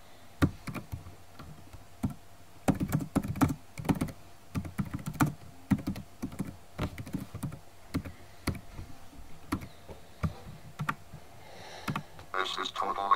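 Typing on a computer keyboard running Windows XP, irregular bursts of close key clicks with short pauses, a voice speaking briefly near the end.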